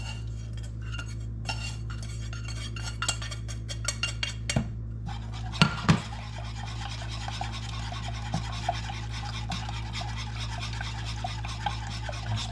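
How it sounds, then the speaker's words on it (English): Roux being stirred into a pan for beef enchiladas, heard as a steady scraping rub of a utensil against the pan with occasional metallic clinks, over a constant low hum, no talking. "we're just going to add all this roux to it"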